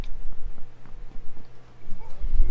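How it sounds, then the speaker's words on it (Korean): Footsteps from the video game PUBG Battlegrounds: a run of soft, rhythmic low thuds in quick succession, fairly close, with a rumbling background and a heavier thump near the end. "발소리."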